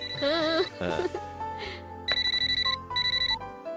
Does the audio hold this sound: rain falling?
no